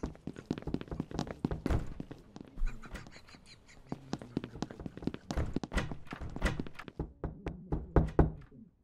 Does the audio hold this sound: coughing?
no